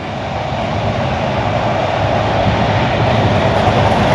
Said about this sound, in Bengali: এই দেখেন ট্রেন যাচ্ছে, কত সুন্দর।